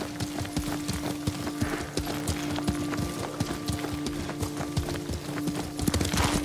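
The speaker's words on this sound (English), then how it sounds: "Lord Sakai taught me to ride a horse." Steady clip-clop of a ridden horse's hooves in Ghost of Tsushima, a continuous close trotting rhythm with an occasional whinny over faint game ambience.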